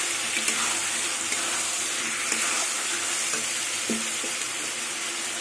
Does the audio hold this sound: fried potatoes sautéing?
yes